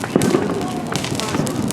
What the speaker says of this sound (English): Just some dumbass kids with firecrackers.